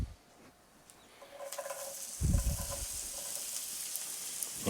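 Onions frying in a skillet for a bacon chicken dish, a steady hiss of sizzling fat rising partway through with a brief clatter of stirring, no talk.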